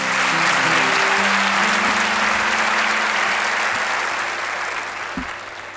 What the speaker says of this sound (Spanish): Fuerte aplauso para mi amiga alemana, Elenita